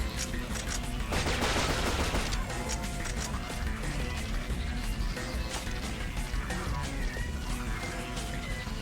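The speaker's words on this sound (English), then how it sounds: "let's shoot our way through here, get some more shotgun ammo" Repeated shotgun blasts in the video game Shadowgrounds boom densely over a busy mix of crashes and game effects, a steady barrage of loud gunfire with little pause.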